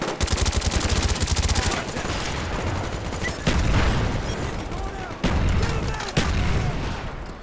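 Rapid automatic gunfire from Call of Duty Black Ops, dense bursts of loud shots firing in quick rhythm, broken by a few heavier booming reports, with faint talk underneath.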